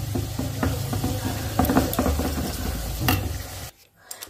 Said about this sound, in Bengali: তোর জন্য আলুটা ভেজে নিলাম আগে।